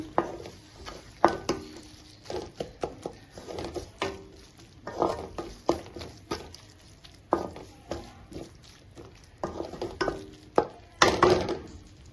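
Spoon stirring a spinach and moong dal curry in a pan, irregular scraping and knocking taps against the pan with soft sizzling between them, close and moderately loud.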